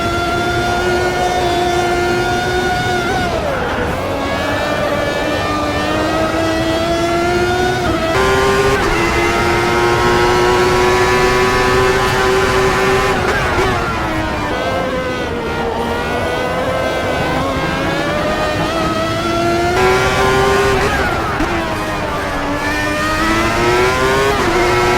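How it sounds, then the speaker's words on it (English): Formula V12 race car in Automobilista 2, heard from the on-board cockpit view: a loud, continuous high-pitched V12 engine whine rising through the revs, dropping sharply at each gear change and climbing again, with no talk. "The Formula V12, which is what we have here, has adjusted on-board engine sounds."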